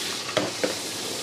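Butter sizzles in an oiled pan while Indian roti is being made, giving a steady, close hiss broken by two light clicks.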